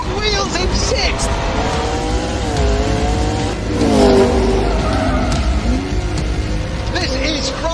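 A car in sixth gear spins its wheels, its engine droning and rising in pitch as the tires squeal, with voices talking over the roar throughout.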